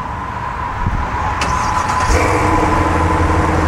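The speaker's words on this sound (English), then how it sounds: "Starts up the vehicle." A 2019 Chevrolet Corvette Stingray engine starts by remote start, cranking and catching about halfway through, then settling into a steady idle.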